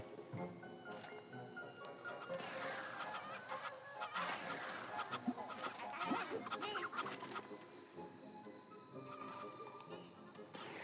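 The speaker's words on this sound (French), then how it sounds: "là, il y a des poules." Chickens in a video game clucking and squawking repeatedly, moderately loud, over a background of game sounds, with talking mixed in throughout.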